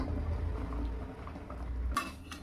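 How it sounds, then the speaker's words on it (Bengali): Chicken curry with onion, yogurt and chili paste being stirred in a pot, a steady low scraping and sizzling churn, then a few sharp metallic clinks of a spoon against the pot near the end. "এবার ভালো করে একটু নাড়িয়ে নে"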